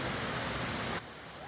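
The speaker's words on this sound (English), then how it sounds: "Now we may stop to check out this powerful waterfall." A powerful waterfall in the Amazon rainforest roars as a dense, steady wash of rushing water that drops abruptly to a softer, more distant hiss partway through.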